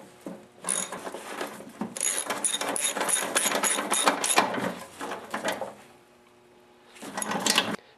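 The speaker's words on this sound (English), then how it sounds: "Now with the 1/2 inch socket, just tighten up all the nuts." A 1/2 inch socket tightens the nuts on a snowblower chute for a 4HP Noma snowblower, with close, bursty ratcheting and metallic clicking in several runs separated by brief pauses.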